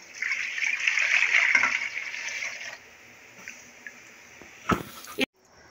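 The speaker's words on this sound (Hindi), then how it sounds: "अब हम कढ़ाई चूल्हे पे रखते हैं और 1 लीटर हम इसमें दूध डालेंगे।" A litre of milk pours into a kadai on the stove, a steady liquid gush for under three seconds, then quiet with a few faint clinks and a brief clatter.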